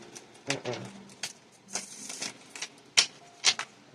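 Several quick bursts of tarot cards being shuffled close up, crisp riffling rustles coming in short irregular bursts with pauses between.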